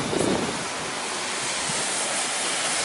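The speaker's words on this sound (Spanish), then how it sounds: "Es otra cascada escondida, Pilo." A hidden waterfall in the rocky gorge of Quebrada del Batán, Córdoba, Argentina, pours as a steady broadband rushing roar, close and continuous, with a slight gust of wind noise at the start.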